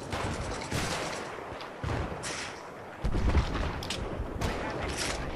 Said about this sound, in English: Ah, mortar got me.